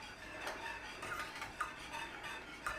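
Gluten-free cheese sauce thickened with corn flour being whisked in a pan, a soft continuous scraping swirl with faint metallic clinks of the whisk against the pot, close and steady without talk.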